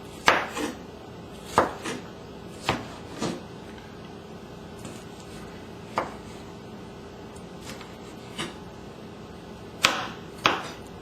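A knife chopping vegetables for pico de gallo on a cutting board, a series of sharp, scattered taps, some in quick pairs, fairly close and clear with no talking.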